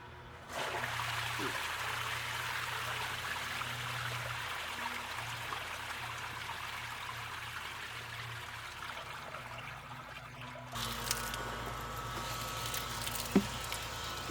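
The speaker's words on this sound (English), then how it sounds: "You just loosen it up, the water will drain out" Water drains out through a loosened drain plug, a steady rushing trickle and patter that carries on continuously and grows a little louder and splashier toward the end.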